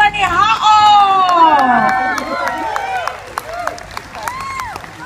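A crowd cheers and applauds hula dancers at a live Hawaiian music performance. Whoops and high shouts soar over a bed of clapping, loud at first and then easing into scattered calls and cheers.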